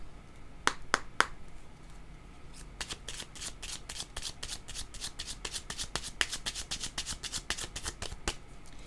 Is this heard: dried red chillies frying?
no